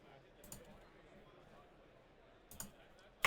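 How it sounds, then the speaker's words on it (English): Computer keyboard clacking during a Sorcery: Contested Realm card game session, a few sharp isolated keystrokes spaced apart, the last one loudest, over a faint quiet background with a voice barely present. "I know my keyboard's a little loud"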